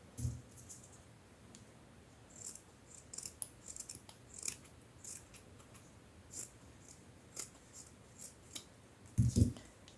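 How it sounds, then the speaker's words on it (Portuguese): Scissors snip away excess fabric around a sewn kawaii Easter bunny, a series of quiet, close, irregular crisp cuts with a louder fabric rustle near the end and no talk. "Posso cortar um pouquinho do excesso aqui."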